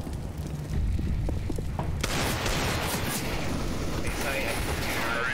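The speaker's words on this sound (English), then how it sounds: "Grenade out" A grenade blast in the shooter CS:GO: a sudden heavy boom partway through gives way to a sustained roar and rumble that fills the rest of the moment, with scattered gunfire and voices underneath.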